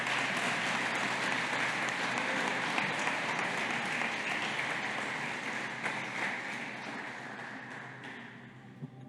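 A church congregation applauds steadily, a dense wash of clapping that holds for several seconds and gradually fades out toward the end.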